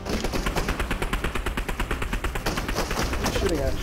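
Rapid automatic gunfire in Fortnite, a steady burst of evenly spaced shots running almost throughout, loud and close, with a voice talking over it.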